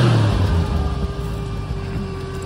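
A 1980 Jeep CJ7 engine with FiTech EFI, about 100,000 miles on it, idles close and steady with a low rumbling drone and a slight rev at the start, no talking.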